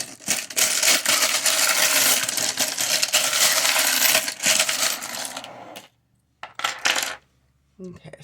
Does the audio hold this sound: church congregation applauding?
no